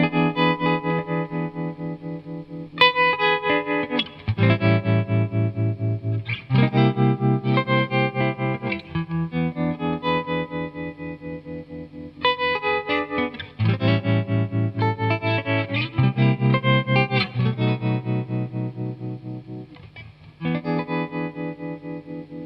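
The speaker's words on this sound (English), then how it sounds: "the new MXR Tremolo pedal, which is actually a digital pedal, which is kind of funny because their tagline is analog innovations, is the best tremolo I've ever tried" An electric guitar runs through an MXR Tremolo digital pedal, its strummed chords pulsing in a steady rhythmic throb of volume, loud and up close with effects-laden tone and no talking.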